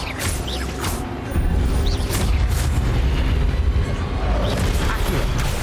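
An Incendio fire spell explosion in Hogwarts Legacy: a loud, close fiery boom bursts in after a quieter opening, then a sustained crackling, rumbling roar with mechanical clatter and scattered sharp hits.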